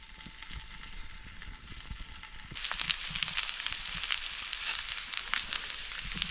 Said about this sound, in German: Ich fange schon direkt herrlich an zu brutzeln.